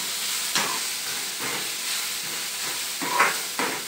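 Cabbage tossed into a hot frying pan while making Maggi noodles sizzles steadily, with a continuous close hiss and a few brief bursts of louder crackle as the pieces hit the oil and are stirred.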